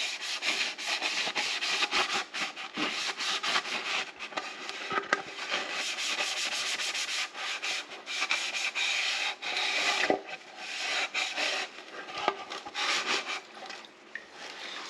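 A gold pan is scrubbed with soapy suds, a close, steady rough rubbing and scratching with irregular strokes throughout, no talking.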